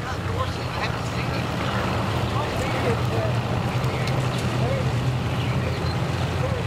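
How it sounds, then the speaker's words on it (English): A fast motorboat coming in to a boat ramp dock, its engine roaring steadily up close with water rushing around it, loud and continuous throughout. "this fast boat coming in"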